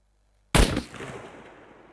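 A single sharp gunshot from an SVD sniper rifle in the video game SCUM cracks loudly, then a long echoing tail rings out and slowly fades.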